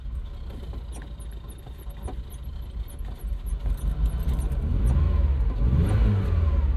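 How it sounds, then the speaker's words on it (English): A 1980 Ferrari 308 GTBi with a gated 5-speed cranks over and catches on a warm start, its engine building from a low churn into louder, rising revs that hold strong and close by, with a faint jingle of keys early on. "So let's go ahead and start it up."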